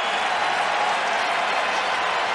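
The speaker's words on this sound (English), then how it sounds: "you heard the crowd react as the official raised his arms" A large stadium crowd at a 1989 Grey Cup football game roars in a sustained, dense wash of cheering and applause, reacting to a touchdown call.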